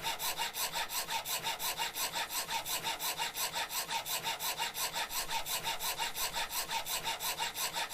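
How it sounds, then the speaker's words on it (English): A hacksaw cuts through metal in the game Cataclysm, a steady, even back-and-forth rasp with regular strokes that carries on without a break, close and fairly loud. "Alright, hacksaw time."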